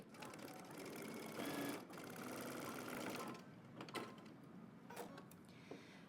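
A sewing machine runs in steady stitching bursts along a collar seam of a dress, pausing briefly and restarting, with a few backstitch-like stops near the end; close and mechanical, no voices.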